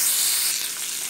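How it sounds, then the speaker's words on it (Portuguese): Bacon frying in a very hot pan, a loud, steady close-up sizzle and crackle with no talk. "E vou colocar aqui o bacon para fritar primeiro."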